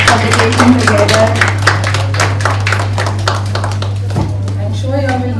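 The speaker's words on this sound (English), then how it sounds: "May we have a round of applause for Anveshanam Foundation and Textile Value Chain" Conference audience at a National Handloom Day event claps in scattered, uneven bursts, mixed with people talking and a constant low electrical hum underneath.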